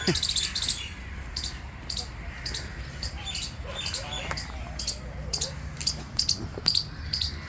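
Crows and squirrels chirp outdoors in New Delhi, a steady series of sharp, high calls repeating every fraction of a second over a low background rumble, fairly near and moderately loud.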